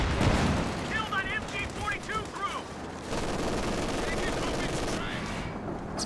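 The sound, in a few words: machine gun fire in Company of Heroes 2 video game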